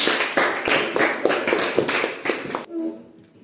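A junior high school class claps for a group, a steady stretch of close, irregular hand claps that stops abruptly, leaving a brief quiet tail with faint room sound.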